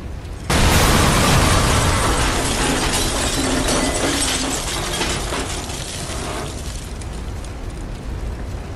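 Explosion in the video game Watch Dogs: a sudden loud blast with shattering debris, then a dense roaring rumble that lingers and slowly thins over several seconds, with no voices over it.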